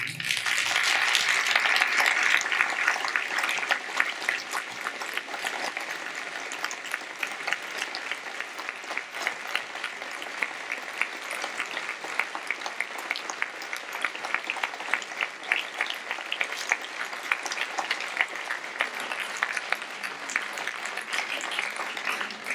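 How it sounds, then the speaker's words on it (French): An audience at a French talk on religion applauds two speakers, a long, steady wash of clapping that starts strong and holds at an even level throughout, with no talk over it. "Je voudrais qu'on applaudisse nos deux intervenants."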